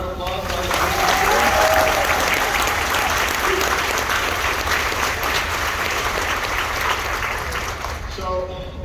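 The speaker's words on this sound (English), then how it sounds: "Can we have a round of applause for" Sustained applause from a stadium crowd for the UW Platteville Marching Pioneers and Pioneer Dance Team, a dense wash of clapping and cheers that fills the whole stretch, loud and steady before tapering slightly at the end.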